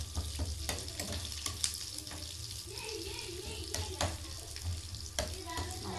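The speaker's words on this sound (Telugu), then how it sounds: "చిట్టుపట్లు ఆడుతున్నప్పుడు గరిటతో అటు ఇటు వేయించేసుకుంటే పప్పు రెడీ అయిపోతుంది" Lentils crackling and sizzling in hot oil as a ladle stirs and scrapes them around a pan, a steady close frying hiss broken by sharp clicks and light metallic knocks, no talking.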